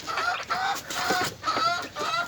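Pet chickens cluck nearby in several short bursts of soft, throaty calls, repeating irregularly with brief pauses between them.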